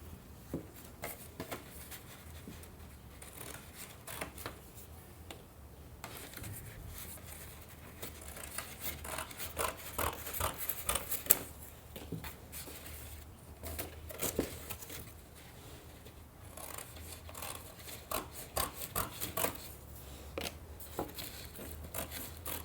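Paper being cut along a straight line with scissors, a faint, close series of uneven snips and rustles with brief pauses, no voices over it.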